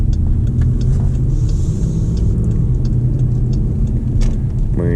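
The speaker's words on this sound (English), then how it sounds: "It's the Borla S-Type, I believe. It's the first stage of the exhaust, and it sounds awesome." A Jeep Grand Cherokee Limited with a Borla S-Type first-stage exhaust rumbles steadily while driving, a loud, deep, continuous engine drone with a slight rise near the end.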